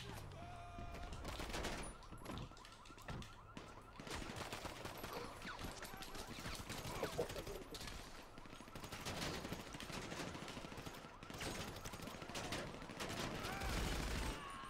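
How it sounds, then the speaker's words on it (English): Gunfire in the video game GTA V during a heist shootout, dense bursts of shots and automatic fire running continuously and fairly loud throughout, with players talking over it. "should we get out and start shooting?"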